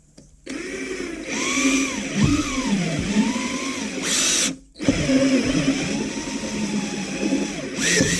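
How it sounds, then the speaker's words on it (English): A power drill bores holes in the corners of a boat switch panel, whining steadily at close range for several seconds, then breaking off briefly before a second run of drilling. "And all I'll do is drill a hole in each corner."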